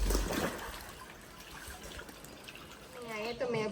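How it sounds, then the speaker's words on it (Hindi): Water from a borewell trickles slowly into a children's pool, a faint, steady splashing dribble heard from nearby, with a voice briefly audible toward the end. "लेकिन धीरे धीरे पानी आ रहा है।"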